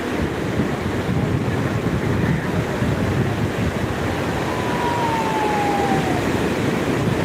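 Sea waves surge and wash onto Digha beach at high tide, a steady, loud roar of surf with wind buffeting the microphone throughout and a faint distant whistle-like tone near the end.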